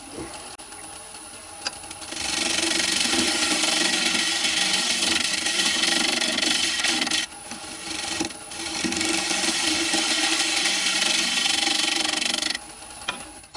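Leftover glue being cut off a woodturning piece on the lathe after the glue chuck is removed, a loud steady rasping scrape of the tool against the spinning wood, sustained for long stretches with one short break.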